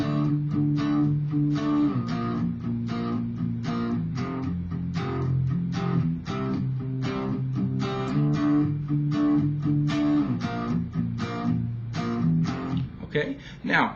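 An electric guitar strums a rhythm, mixing palm-muted chugs with open ringing chords in a steady, close pattern, played alone with no talking.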